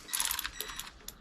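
An electric ratchet tightens a bolt on a Yamaha 20A two-stroke outboard, giving a close, bright whirring buzz in short bursts with brief pauses between them.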